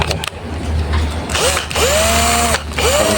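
A cordless drill whirs in short bursts, its pitch sweeping up as it spins and settling into a steady high whine, close and fairly loud.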